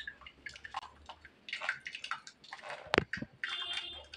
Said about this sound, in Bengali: সেই কারণে খুব ভালো করে কিন্তু টমেটোর এই সসটা আমাদের ছাঁকনির সাহায্যে ছেঁকে নিতে হবে।